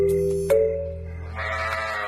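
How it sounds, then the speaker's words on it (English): A sheep bleating sound effect: two loud, close, wavering bleats, the second higher and drawn out, with a noisier tail trailing behind. "Even were-sheep."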